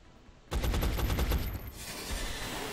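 A sudden, dense burst of rapid gunfire erupts in the video game XCOM: Enemy Unknown. It rattles loudly for about a second, then fades into a lingering rumble.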